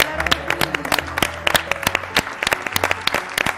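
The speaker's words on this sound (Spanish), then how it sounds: "Un aplauso en plató para esta familia." A small group in a television studio claps for several seconds, with individual sharp hand claps distinct and uneven, and a low hum underneath.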